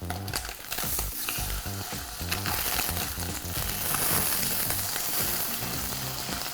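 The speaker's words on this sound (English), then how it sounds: "Tofu's seared, so both sides are nice and brown, you see that?" Tofu sears in oil in a very hot pan, giving a steady, close, crackling sizzle with small pops that carries on throughout.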